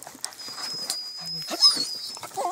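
A hunting dog whimpers and whines softly during an agouti hunt with dogs, brief faint cries scattered over rustling background noise outdoors.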